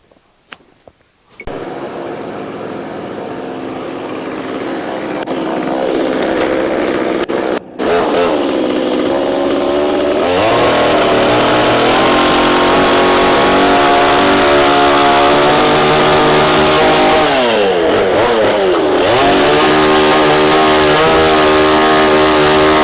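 Motorized saw starts up and runs loudly, its engine pitch rising and falling as it bites through boxwood logs, with brief drops between cuts.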